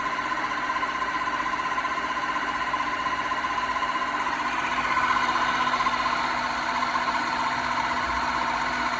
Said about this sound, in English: the Tineco will automatically wash and dry the microfiber rollers itself